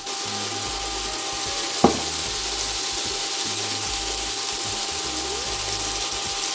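Salt-and-pepper-seasoned burger patties sizzle steadily in a pan, a constant loud broadband hiss with a low mechanical rumble underneath and a single sharp knock partway through.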